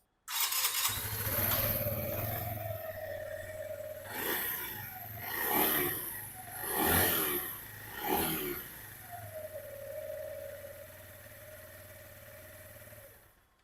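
A 125cc Keeway SR125 motorcycle engine starts and idles close by, then is revved three times in quick bursts before settling back to a steady idle.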